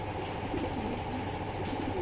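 Pigeons, a pair of large foreign breed birds, cooing softly and repeatedly at a distance over a quiet steady background.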